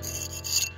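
A bricklayer's trowel scraping surplus mortar off damp brickwork, heard as a short, soft, raspy scrape close by, with no talking.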